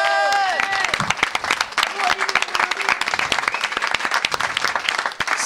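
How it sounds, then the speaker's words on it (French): Audience applause at a closing event, lively claps with scattered cheers. A voice sings or speaks at the start, and crowd chatter blends in as the clapping continues. "On peut l'applaudir."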